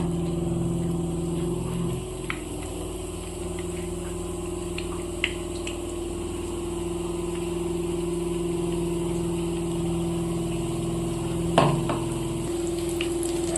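Capsicum bajji frying in hot oil gives a steady, close sizzle over a constant low hum, with a few small clicks and one louder clatter near the end; no one speaks.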